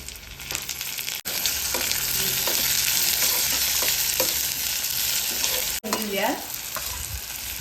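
Chopped tomatoes hit browned onions and cumin in hot oil for hotel-style dal tadka, setting off a loud, steady sizzle broken by two brief dropouts, with a spatula scraping and stirring through it.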